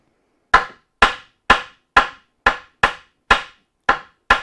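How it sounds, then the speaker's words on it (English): An ordinary claw hammer taps wood on a lathe cart top, nine evenly spaced, sharp, close knocks about half a second apart, with no talking. "hitting it with an ordinary claw hammer, it's not going to be a problem"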